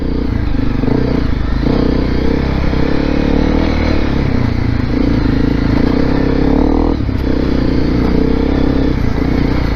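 A Honda CRF250L Rally motorcycle is ridden hard off-road, its engine droning loudly and continuously under the constant clatter and scrape of debris hitting the bike.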